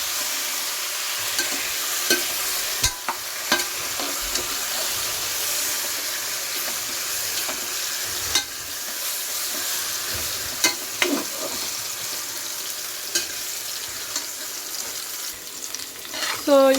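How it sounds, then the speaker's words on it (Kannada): Chicken frying in oil, a constant close sizzle with scattered sharp clicks and scrapes of stirring, steady throughout with no talking. "ಸೊ ಇದು ಸ್ವಲ್ಪ ಎಣ್ಣೆಲಿ ಚೆನ್ನಾಗಿ ಫ್ರೈ ಆಗಲಿ."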